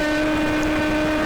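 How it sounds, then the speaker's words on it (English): A 1990s F100 racing kart engine screams at very high RPM on a kart club circuit, a loud, steady, piercing whine with strong harmonic tones that fills the whole short stretch without letting up. "we're flying along, the engine absolutely screaming"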